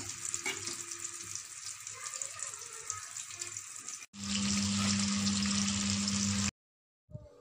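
Chicken kebab pieces fry in a pan with a steady, close hiss that breaks off near four seconds, returns louder with a low hum underneath, then cuts to silence.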